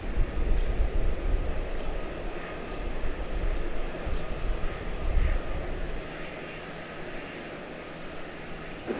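A Bombardier CRJ900 regional jet departs from Charlotte-Douglas International Airport, its engines making a steady broadband roar at moderate distance that swells slightly and then slowly fades.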